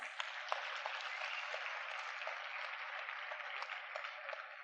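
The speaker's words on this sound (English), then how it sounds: "Clap hands, clap hands." An audience at a student orientation claps steadily, a crowd's dense, even applause sustained throughout at moderate volume, without talk.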